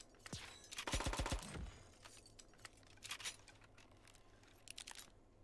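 Faint SMG gunfire in the video game Bullet Echo: one quick rattling burst early on, then a few scattered shorter bursts over quiet background.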